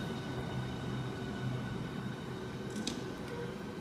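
Southeastern Class 395 train at Ebbsfleet International, a steady broad rumble and hum of a high-speed electric unit moving off, with a faint brief high squeal near the end and no talk.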